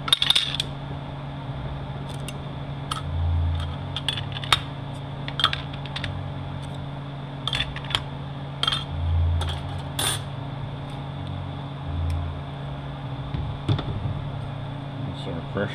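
Steel clutch plates clink during a Toyota U250E automatic transmission rebuild: light, scattered metallic clicks and taps, close by, over a steady low hum.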